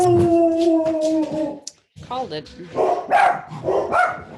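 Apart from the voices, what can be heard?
dog barking and howling at someone at the door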